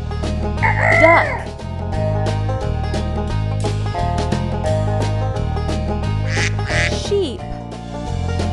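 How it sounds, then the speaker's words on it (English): A cartoon duck quacks a few times over a loud, steady backing track, the calls standing out near the start and again around the seventh second, part of a children's farm animal stacking game. "duck."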